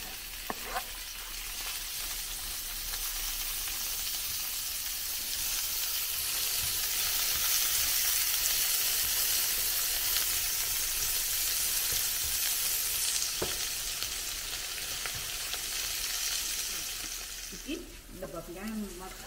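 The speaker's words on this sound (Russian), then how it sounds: "И обжариваем традиционные овощи." Onions fry in a pan for a beet and chickpea soup, giving a steady, close hiss and crackle of sizzling oil throughout, with a brief voice near the end.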